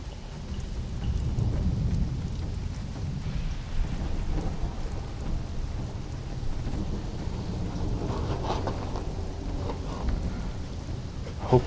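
A thunderstorm in the video game Conan Exiles: low rolling thunder rumbles under a steady wash of rain, continuous and moderately loud, with no voices.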